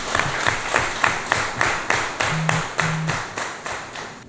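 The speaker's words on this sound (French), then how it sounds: "je voudrais vous féliciter et vous demander de vous applaudir très très fort" Crowd at a political rally in Djidja, Benin, clapping in a steady rhythmic beat of roughly two claps per second, sustained and fairly close, with no talking.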